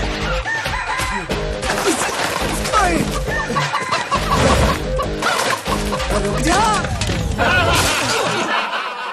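Loud, busy barnyard chickens with clucking and crowing overlapping continuously, mixed with clattering and scuffling throughout.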